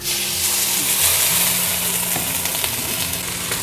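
Red chilies cooking in a pan with a little water: a dense, continuous, loud sizzle and bubbling, close up, with faint low humming tones underneath and no talk.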